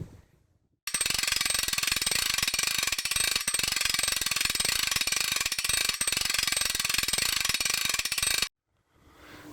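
A Dakota air suspension raises the vehicle back to its auto ride height: a loud, steady mechanical buzz starts abruptly, runs unbroken for about seven and a half seconds, then cuts off sharply into near silence.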